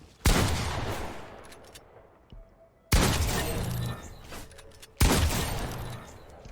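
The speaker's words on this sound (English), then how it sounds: "If you freaking shoot the gun." Three heavy gunshots in Fortnite ring out a couple of seconds apart, each a loud sharp crack trailing into a long fading echo before the next one.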